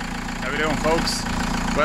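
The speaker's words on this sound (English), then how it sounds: "the noise you hear is obviously the engine running in the background now" A VW TDI diesel car engine idles while warming up, a low, steady rhythmic chug running beneath a voice as he talks close by.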